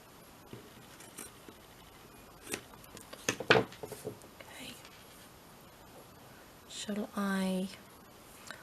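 Scissors cut material for a soft spine journal in a quiet room: a few soft snips, then a longer steady cut with a rasping, rhythmic blade sound near the end, with faint whispered talk.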